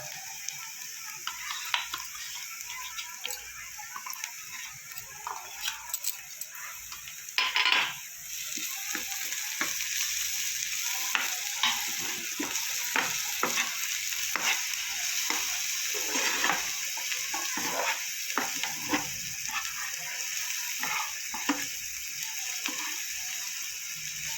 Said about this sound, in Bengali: রসুনটা কিছুটা ভাজা ভাজা করে নিয়েছি